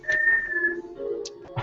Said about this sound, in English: I mean, the whistling is okay